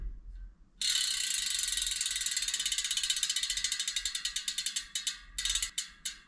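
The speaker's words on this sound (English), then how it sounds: "This is the rear one. Let's have a listen to the hub." Rapid, even ticking of a Prime Baroudeur rear wheel's freewheel hub, close and crisp, slowing toward the end into separate clicks as the wheel coasts down.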